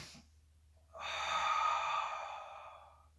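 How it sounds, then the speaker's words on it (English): A person doing floor exercise with hands on the stomach takes one slow, audible breath, a soft airy exhale swelling after a short quiet pause and fading over about two seconds, close and alone. "I stabilize up and I practice breathing."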